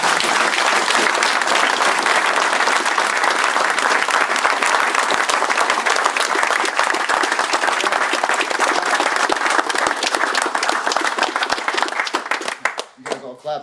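Group applause fills an MMA gym for about twelve seconds, dense and loud with many hands clapping together, then cuts off abruptly as a voice begins speaking.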